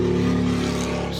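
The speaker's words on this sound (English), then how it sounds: "Sorry, bunch of motorcycles." Motorcycle engines drone outside open windows, a steady loud roar that fades slightly as the bikes move away.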